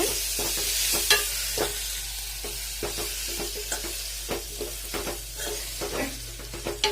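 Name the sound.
dried anchovy fish frying in a pan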